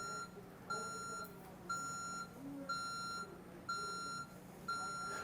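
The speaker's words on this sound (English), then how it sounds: "Once it stops beeping, that is armed." An intrusion alarm system beeps through its arming countdown: a steady series of evenly spaced electronic beeps, about one per second, fairly faint over a low background hum.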